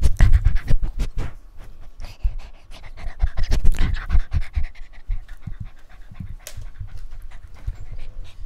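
A dog pants close by in quick, uneven huffs with scratchy rustling, loud and continuous and without talk.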